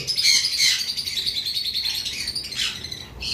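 Pet birds in a bird shop, a white pair among them, giving quick, high, bright chirps in clustered bursts close by, with faint background noise beneath.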